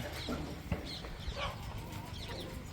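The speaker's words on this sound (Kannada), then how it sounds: "ನಾನು ನಿಮಗೆ ಕೋಳಿ ತೋರಿಸೋದೆ" Chickens cluck softly nearby on a sheep and bird farm in Davangere, India, in short, scattered calls over a low background murmur, with no clear speech.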